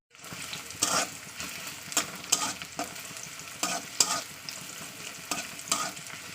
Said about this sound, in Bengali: তেলটা গরম হলে দিয়ে দেবো পেঁয়াজটা আমি একটু ভাজা ভাজা করে নেবো।